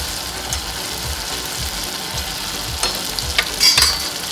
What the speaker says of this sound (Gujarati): હવે આને આવી રીતે મિક્સ કરી લેવાનું ઉપર નીચે